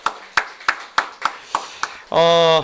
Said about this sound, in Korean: 우리 박수로 한번 환영합시다